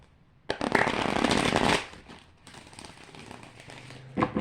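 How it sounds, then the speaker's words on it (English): Tarot cards being shuffled up close, a dense riffling burst that runs for about a second, then lighter intermittent shuffling and handling, with no talk. "I'm going to give these one more shuffle"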